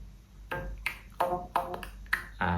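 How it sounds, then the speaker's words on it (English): A bamboo jaw harp plucked in short, separate twangs, about six bright resonant attacks spaced roughly half a second apart, quiet and close with no talking. "This is the NCAS jaw harp, and inside there are 2 bamboo jaw harps."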